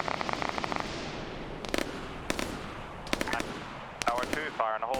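Explosions from high-explosive shells in a military video game ring out in several sharp bursts with a rolling, noisy backdrop of battle between them, a few loud impacts spaced irregularly.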